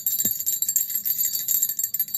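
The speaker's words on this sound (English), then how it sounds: "And I could use my little bell." A small altar bell rings in quick repeated tinkling strokes, bright and close, with one soft low thump near the start and no voices.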